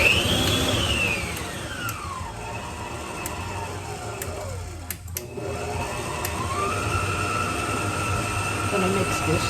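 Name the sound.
electric mixer mixing peanut butter cookie ingredients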